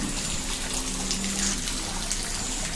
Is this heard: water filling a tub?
yes